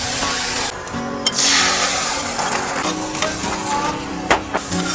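Eggs frying in a pan with a steady sizzle, broken up by scraping and stirring strokes of a utensil and occasional clacks against the pan, close and fairly loud.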